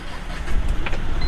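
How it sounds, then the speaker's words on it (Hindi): A Tata Intra V10 small commercial pickup truck starts up, a short whirring crank that catches into a low rumbling idle, loud and close. "अब एक बार हम इस गाड़ी को स्टार्ट करके और देखते हैं"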